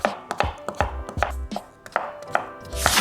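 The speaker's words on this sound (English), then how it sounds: "I like chopping my veggies up really small" Knife chopping vegetables into small cubes on a cutting board, a brisk uneven series of about a dozen sharp close thuds.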